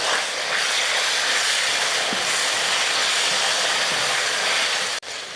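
Radish sizzles and hisses steadily in a hot pan with two tomatoes, a little salt and turmeric powder, a continuous broad frying hiss that holds at an even loudness throughout and cuts off briefly near the end.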